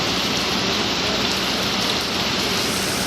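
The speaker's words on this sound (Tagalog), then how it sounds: "Yun po, malakas ang ulan." Heavy rain pours steadily at the port of Lucena, a dense continuous hiss drumming on nearby surfaces with no pauses, loud and close throughout.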